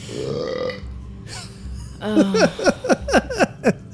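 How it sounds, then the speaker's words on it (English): A man at a tabletop role-playing game session lets out a long, loud gurgling burp that breaks into a rapid series of croaking belches, following quieter background talk. "everyone in this room burps 10 times as much as I do"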